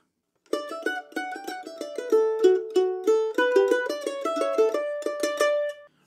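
A bright plucked mandolin plays a quick, lively fiddle tune alone, with rapid picked notes in a steady rhythm.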